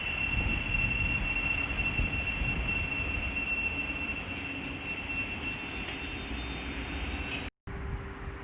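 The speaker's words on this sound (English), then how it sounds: "1347 Great Northern service from London King's Cross to Welwyn Garden City, being worked by a Class 717" A Great Northern Class 717 electric unit on the London King's Cross to Welwyn Garden City service passes through Welwyn Garden City station with a steady loud rumble and a high whine, continuous and close, briefly cutting out near the end.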